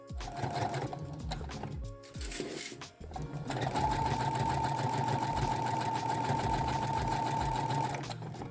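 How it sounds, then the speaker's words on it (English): A domestic sewing machine stitches a cuff onto a robe sleeve opening with piping sandwiched in between, running in short bursts, then a long steady whirring run of rapid stitches, close and alone. "just sew the cuff to the sleeve opening"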